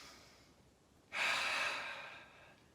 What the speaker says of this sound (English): Deep inhale from that belly.